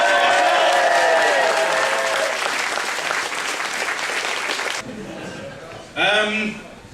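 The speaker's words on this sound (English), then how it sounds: "big round of applause" A crowd applauds at a gathering, loud sustained clapping that thins out and cuts off partway, after which a voice speaks briefly over the quiet.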